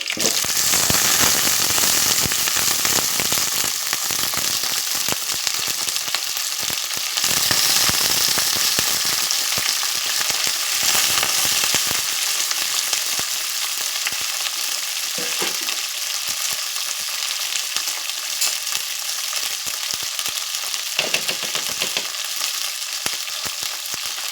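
Ivy gourd pieces frying in a pan for masala curry give a steady, loud broadband sizzle and crackle throughout, close up, with occasional stirring scrapes and no talk.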